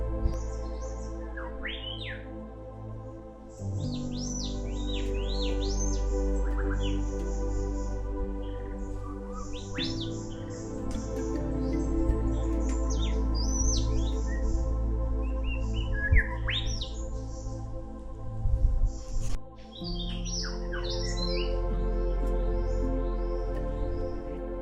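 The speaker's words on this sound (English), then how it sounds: "This entire forest is just alive with birds" Birds in a Springbrook National Park forest chirp and whistle in scattered, overlapping bursts, some close and bright, others farther off, over a steady low background hum with no talking.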